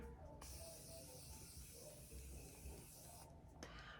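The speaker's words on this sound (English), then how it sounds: "Now we're gonna go in one more time with the setting spray." A steady, broad hiss of makeup setting spray runs almost continuously for about three seconds, close and fairly loud, then stops abruptly.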